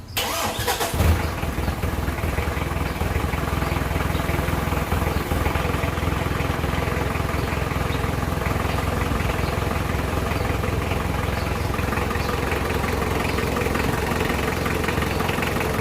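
A vehicle engine, just fitted with a repaired dropped battery, cranks and catches at the start, then settles into a steady, loud, close idle that runs on unbroken with no talk.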